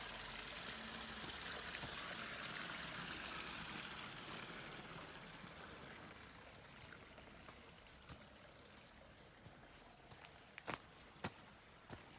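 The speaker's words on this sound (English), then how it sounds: "you can hear the sounds of a little bit of water in the sort of a creek bed" A little water trickles through a creek bed in the Arcata Community Forest after recent rain, a soft, steady flow that fades over the first half, followed by a few scattered footsteps or knocks nearby.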